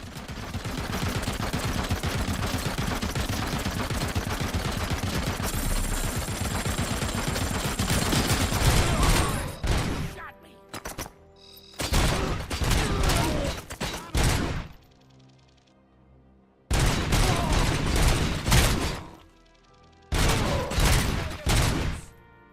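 Sustained automatic gunfire from RoboCop's weapon in the RoboCop: Rogue City video game, a dense continuous burst for about ten seconds followed by several shorter loud bursts separated by brief quiet gaps.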